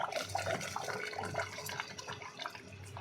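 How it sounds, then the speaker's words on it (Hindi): Water pouring steadily into a mutton curry gravy cooking over a village clay stove, a continuous splashing wash, moderately quiet throughout. "अब इसमें हम डाल देंगे अपने ग्रेवी के हिसाब से पानी"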